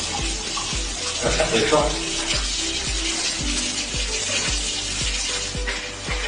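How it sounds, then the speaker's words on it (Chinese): Water runs steadily from a kitchen tap during handwashing before cooking instant noodles, a continuous splashing stream under a rhythmic thumping background with someone talking over it. "做饭或者吃饭之前一定要洗手"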